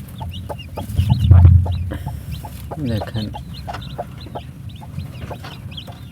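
A hen clucks steadily beside the faint peeping of her newly hatched chicks, a farmyard scene with a person speaking briefly near the start.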